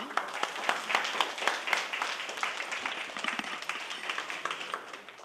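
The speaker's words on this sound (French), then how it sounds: "Bien, on les applaudit" A parish audience applauds young people aged seven and up, a steady patter of many hands clapping at moderate level for about five seconds, with faint voices mixed in.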